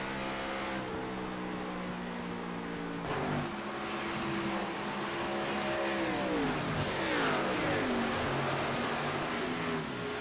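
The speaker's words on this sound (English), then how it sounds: "the motors of these cars are starting to have to lift a little bit more through the turns" Several race car engines at Chicagoland in a racing video game, droning and shifting pitch as the cars lift through turns, steady and fairly quiet throughout with no talk over it.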